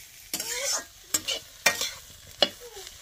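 Pahadi-style chicken is stir-fried in a pan over a soft sizzle, broken by four distinct, crisp spatula scrapes at uneven intervals.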